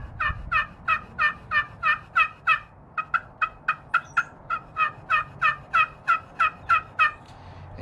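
A turkey pot call yelps softly in a steady run of about twenty evenly spaced, mellow notes, close and clear, with a brief pause midway.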